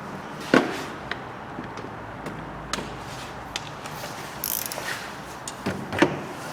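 Ratchet or socket work loosening 10mm lower alternator fixing bolts on a 1.8 petrol Ford Focus, a few sharp metallic clicks and knocks spaced over a low background, no talk.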